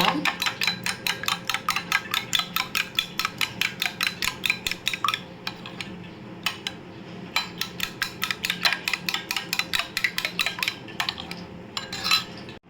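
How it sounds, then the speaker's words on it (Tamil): Two beaten eggs whisked briskly in a bowl with a utensil for a chicken cutlet, a fast, steady run of close metallic clinks and taps, pausing briefly midway before resuming. "ரெண்டு முட்டையை அடித்து வச்சுருந்தோம்ல அதை நல்லா கலக்கிக்கோங்க"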